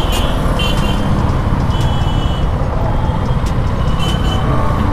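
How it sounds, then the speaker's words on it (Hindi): Rider's-eye street traffic in Varanasi from a Suzuki Gixxer SF 250 motorcycle: a constant low roar of engines and wind rumble, with occasional distant horn beeps poking through, no voices. "ये बनारस, ये बनारस का ट्रैफिक"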